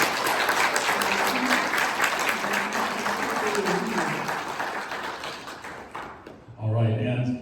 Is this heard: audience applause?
yes